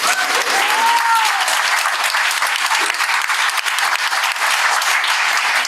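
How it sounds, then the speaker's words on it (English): A crowd at an outdoor anti-colonial free speech rally breaks into loud, sustained applause, dense clapping that continues steadily throughout, with a brief whistle early on. "Let's give another round of applause."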